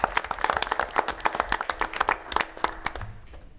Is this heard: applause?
yes